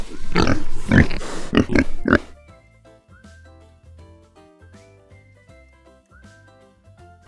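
A pig grunts and oinks in a quick burst of rough, snorting calls lasting about two seconds, followed by soft background music alone.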